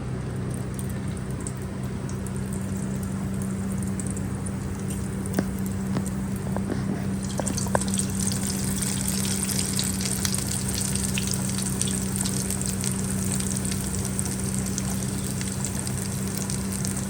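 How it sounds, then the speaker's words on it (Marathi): Kothimbir vadi, coriander fritters, frying in hot oil, a steady close sizzle and bubbling with a few scattered crackles and pops running the whole time. "आपले कोथिंबीर वडीला फ्राय करून घेऊ."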